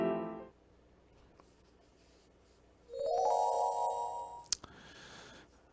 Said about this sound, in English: Oh, it's just a text message.